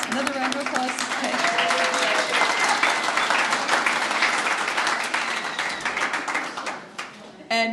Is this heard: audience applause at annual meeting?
yes